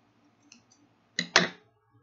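Cutting a crochet tablecloth makes a couple of faint clicks, then two crisp, close snips in quick succession in a quiet room.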